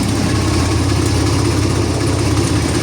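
A DF 244 tractor engine runs at a steady idle, a loud continuous rumble with constant throbbing and no variation in pace, close by.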